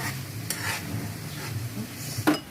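Carrots being stirred in a pan for Filipino-style spaghetti sauce, a few scraping spoon strokes over a soft sizzle, close and moderately quiet, with no talking.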